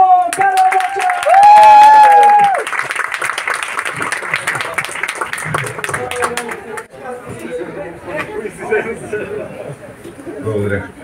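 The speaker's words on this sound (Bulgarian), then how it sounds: "вашите аплодисменти сега може да дигаш ръка много високо" A talk audience claps and cheers as a speaker is introduced on stage. A voice rises over the start, then steady clapping follows, with chatter and scattered shouts.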